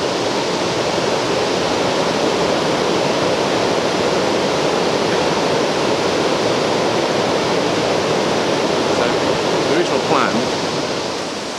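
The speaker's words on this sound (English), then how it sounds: "You might just be able to hear the river" River Avon flowing on a foggy morning, a steady broadband rush of water lasting throughout, fairly loud and even, with faint background sounds and no clear speech.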